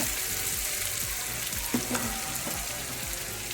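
Dahi vada lentil fritters deep-fry in hot oil over medium heat. A soft, even bubbling sizzle carries a few faint clinks from the pan, fairly quiet and with no voices.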